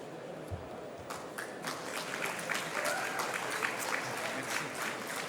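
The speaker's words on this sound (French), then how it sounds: "je vais appeler Jérôme Révis sous vos applaudissements" Audience applause at a real-estate conference as a speaker is called to the stage: steady, moderately loud clapping from a room of people, building slightly and sustained for several seconds.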